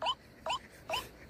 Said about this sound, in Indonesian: Udah bunyi burung ruak-ruak.